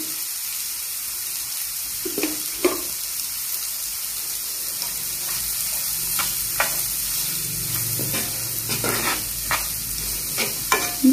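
Onions sautéing over low heat for a shellfish (kakka) roast, a steady close sizzle with periodic stirring scrapes and clinks throughout, no talking.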